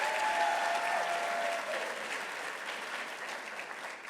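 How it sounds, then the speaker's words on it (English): A large crowd applauds steadily at a school district staff awards ceremony, a dense wash of clapping that holds strong before easing slightly, with a brief whistle early on. "How about one more round of applause for our second group of ESPYs?"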